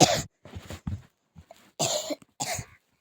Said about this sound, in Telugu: నాకైతే దగ్గు వస్తుంది గాయస్